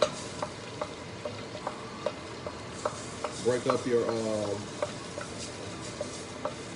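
Cream cheese is broken up and stirred into melting butter in a hot pan for lobster cauliflower mac and cheese, with soft sizzling under a regular series of spoon taps and a brief scraping burst midway.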